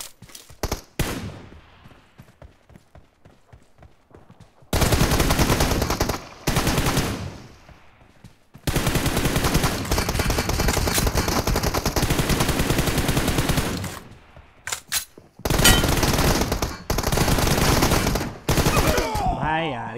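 Pistol gunfire in the mobile battle royale game Free Fire comes in loud bursts of rapid shots, broken by quieter pauses and sharp single cracks near the end.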